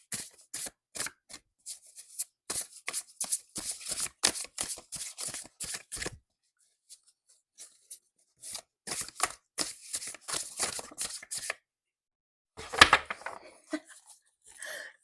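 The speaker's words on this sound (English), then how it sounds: "I am going to draw one universal truth card for you" Tarot cards are shuffled by hand, crisp riffling flutters in quick bursts, close and clear, stopping for a pause before a few more rustles and a final flurry.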